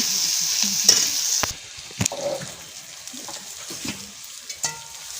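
Sliced onions fry in hot oil for a chicken curry cooked over a stove, with a crackling sizzle broken by scraping, clattering spoon strokes as they are stirred and browned.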